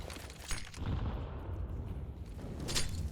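Sniper rifle fire from AWPs in a professional Counter-Strike match on the Anubis map, heard as a few sharp reports within dense battle noise, with a louder crack near the start and another near the end.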